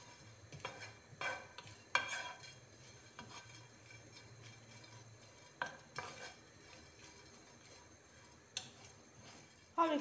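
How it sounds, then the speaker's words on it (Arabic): A spoon stirs in a frying pan over low heat while something toasts, giving quiet scrapes and taps in scattered bursts over a soft, faint sizzle. "نقدروا نحمصوه غير في المقله على نار قليله حتى يبدا يتحمر"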